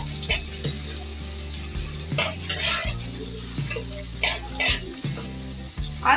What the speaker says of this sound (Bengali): এবার দিয়ে দিচ্ছি পেঁয়াজ কুচি এবার এটা একটু ভাজতে থাকবো